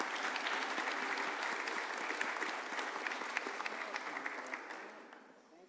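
Sustained clapping from a school ceremony audience at the Johnson School sixth-grade moving-on event, a dense, even round of applause that fades out over the last second.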